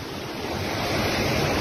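Floodwaters of the river at Jamshoro near Hyderabad, carrying a flow of about six lakh cusecs, rush past in a loud, continuous roar that swells slightly louder toward the end, with heavy wind buffeting the microphone.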